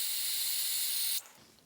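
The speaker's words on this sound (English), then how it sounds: "So right off the bat, it sprays excellent." A K&N brake parts cleaner aerosol can sprays in one steady, loud, close hiss for just over a second, then cuts off abruptly, leaving a faint fading residue.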